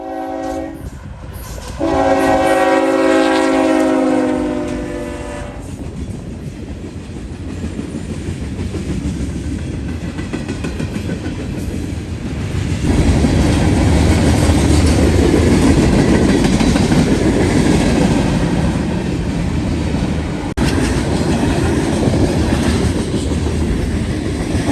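Eastbound freight train 170 sounds its horn in long loud blasts near milepost 168 on Davis Road outside London, Ohio, then rumbles past close by with steady clickety-clack of wheels and rising roar.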